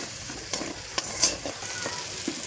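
Garam masala being stirred into a frying fish curry mixture of loitta (Bombay duck) in a pan, a soft sizzle under several close, distinct scrapes and clinks of a spoon, with no talk.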